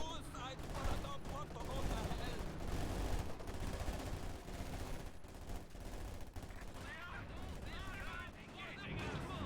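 Gunfire in the Company of Heroes 2 strategy game during a 1v1 match, dense bursts of rifle and machine gun fire with distant explosions rattling continuously under a commentator's talk.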